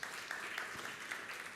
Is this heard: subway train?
no